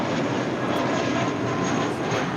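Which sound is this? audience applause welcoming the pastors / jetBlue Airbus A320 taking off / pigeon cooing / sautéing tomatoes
jetBlue Airbus A320 taking off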